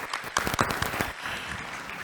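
Applause at an early dinner event for a finance minister: a short burst of clapping from a modest group, moderately loud, with some talk around it.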